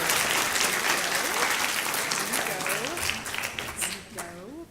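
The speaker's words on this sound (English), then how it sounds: "huge round of applause" Applause from a conference audience for a best paper award, a broad wash of clapping that fades toward the end while a presenter's voice starts speaking over it.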